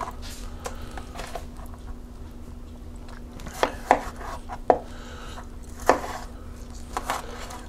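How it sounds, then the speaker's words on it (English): Tomatillos being cut up with a knife for salsa, heard as a scattering of close, sharp chopping taps against a board, a few louder strikes standing out over a low background hum. "So now I'm gonna cut up the tomatillos"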